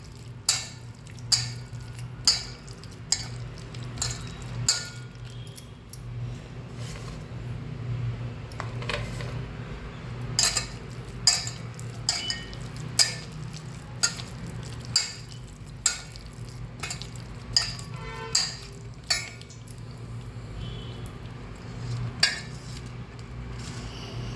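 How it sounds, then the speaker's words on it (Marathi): Onion bhaji batter, sliced onion with turmeric and chutney, being mixed by hand in a bowl: repeated light clinks and taps against the bowl at an irregular rhythm, close by, over a low steady background hum. "आणि हे मिश्रण असं कालवायचं"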